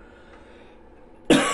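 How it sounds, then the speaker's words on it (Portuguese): A single sharp cough bursts out near the end after a quiet stretch of room tone, close and loud, with no speech around it. "Desculpa aí pela minha tosse."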